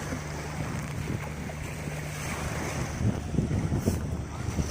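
Boat on the sea at Salmiya beach, a steady motor rumble with wind buffeting the microphone and washing surf, continuous and fairly close with no talk.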